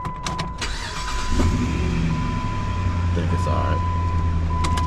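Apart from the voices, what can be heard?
4.7 liter V8 truck engine being cranked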